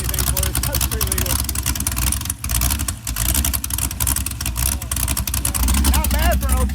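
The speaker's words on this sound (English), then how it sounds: "Not bad for an old truck motor." An old 1966 Chevrolet C10 truck motor runs steadily with a deep, rough rumble close by, choppy throughout, while people talk over it.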